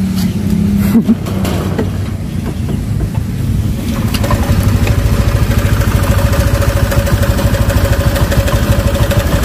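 A Honda Vario 125 scooter with a disconnected, faulty ECT sensor runs at a steady idle, its low engine hum continuing close by; a few seconds in, the sound shifts as the scooter starts and settles into an even, rhythmic idle.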